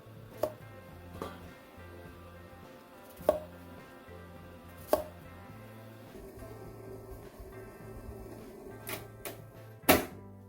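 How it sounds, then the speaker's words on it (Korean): A knife cuts a cucumber into quarters with lengthwise slits on a cutting board, a few sharp irregular thuds spaced seconds apart over a low background hum. "오이를 4등분해서 4쪽으로 칼집을 냅니다"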